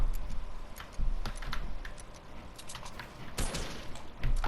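Computer keyboard keys clatter in quick bursts during a Fortnite match played on keyboard and mouse, with game gunfire and effects mixed in at moderate level.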